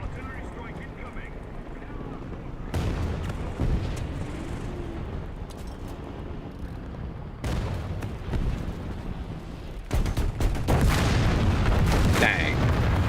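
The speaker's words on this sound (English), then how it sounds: "Artillery strike incoming!" Artillery strike in War Thunder: a few heavy, deep explosions land one after another, each a loud broadband blast rolling into rumbling battle noise, with a voice talking over parts of it.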